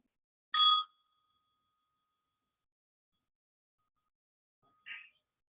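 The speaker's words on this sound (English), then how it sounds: "So when you hear the bell," A small mindfulness bell brought back from a retreat rings once, clear and bright in a quiet room, followed by a fainter, shorter ring near the end.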